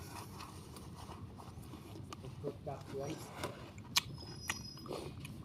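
Crisp bites and crunchy chewing of a sweet Sida tomato fresh from the vine, a few sharp crunches close to the mic amid soft background noise.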